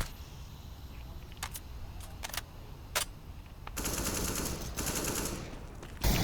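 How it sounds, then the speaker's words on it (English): Rapid bursts of automatic rifle fire and single shots on the Overpass map in Counter-Strike, several short separate cracks followed by a longer sustained spray, then a sharp final burst, with no talking. "As Adderall runs in frag hungry, getting one and spraying the other down to 50."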